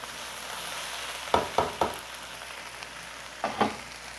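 Okra (bhindi) fries uncovered in a pan under a steady low sizzle, with a few sharp stirring scrapes or clatters in a quick cluster and two more later, fairly close.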